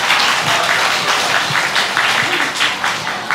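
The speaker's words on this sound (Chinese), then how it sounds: "鼓掌一下啊！" Dense, sustained applause fills a Buddhist lecture hall during a Lantern Festival raffle, the clapping steady and fairly loud throughout with a faint voice underneath.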